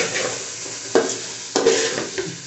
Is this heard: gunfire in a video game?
no